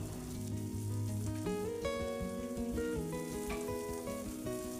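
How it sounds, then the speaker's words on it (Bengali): Onions with salt fry in a pan for egg curry, giving a steady, gentle sizzle that runs throughout beneath prominent background music. "ভেজে নিচ্ছি এবার পেঁয়াজগুলোকে।"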